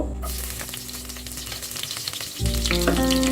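Chopped garlic hitting hot mustard oil for a beef bhuna, a loud, dense sizzle that crackles up close, then a sharp surge as more goes into the pan, with no voices.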